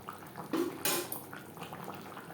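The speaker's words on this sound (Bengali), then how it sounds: "আলু পটলের সাথে ঘি বেশ ভালো করে মিক্সড করে দেব।" Potatoes and pointed gourd being stirred with ghee in a pan make soft scraping, clinking and sizzling sounds, with a couple of louder spoon-against-pan knocks near the middle, all close by and without talk.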